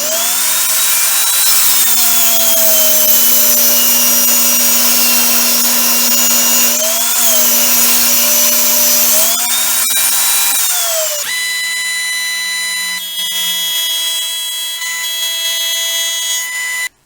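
A jointer planes a wooden seat blank with a loud, steady high whine and tonal hum from the spinning cutterhead, the pitch dipping briefly a few times as the board feeds across, then settling into a changed idle drone.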